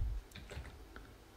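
Quiet, quick computer keyboard typing while code is written, a handful of light key taps close by over faint room noise.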